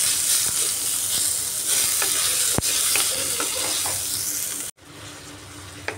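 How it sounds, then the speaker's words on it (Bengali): Chopped tomatoes and onion frying with spices in a pan, giving a loud, continuous close sizzle with stirring scrapes, which stops abruptly near the end and leaves quieter background noise. "টমেটো দিয়েও আর একটু ভালো করে ফ্রাই করে নিচ্ছি।"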